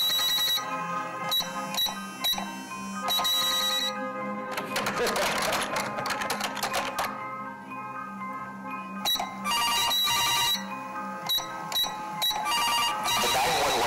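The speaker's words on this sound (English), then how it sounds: "phones buzz with an emergency alert." Shrill electronic alert tones and buzzing chirps from smartphones sounding an emergency alert, repeating in loud bursts with brief gaps and overlapping layers of tones.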